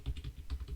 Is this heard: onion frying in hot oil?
no